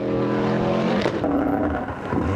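A rally car on a gravel stage of the 2004 Circuit of Kerry in Ireland, apparently a restored Subaru-style 555 machine, roars loudly past nearby, engine note holding steady then shifting as it goes by.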